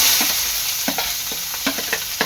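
Onion dropped into a hot pan for soybean veg burji, giving a steady broadband sizzle with several short scraping stir strokes spaced through it, close and fairly loud, with no one talking.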